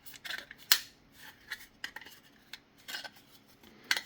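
Plastic casing of a Team Group L5 Lite 240GB 2.5-inch SATA SSD is pried and peeled open, giving close, crisp clicks, snaps and scraping crackles in short irregular bursts.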